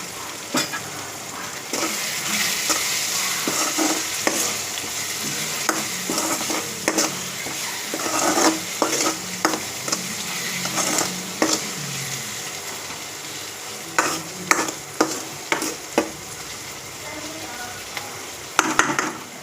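Sprouted grains cooking in a pan with garam masala and pepper powder, a steady close sizzle with repeated sharp scrapes and clacks of a spoon stirring against the pan.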